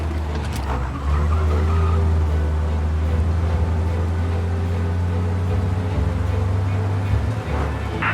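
A car engine in the video game Mafia: Definitive Edition drones steadily at high speed, a loud, constant low rumble with slight shifts in pitch.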